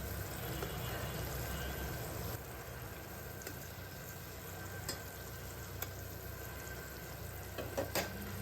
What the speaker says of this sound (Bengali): এখন আমি পটল আর কাঁকরোলগুলো ভেজে নেব।